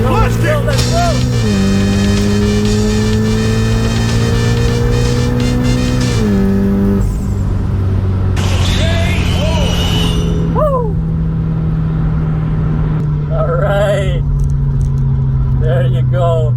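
An Audi S3 fitted with a TPC900 full-frame turbo revs hard and accelerates, its loud engine note climbing and shifting through gears, with turbo whistles and people shouting over it.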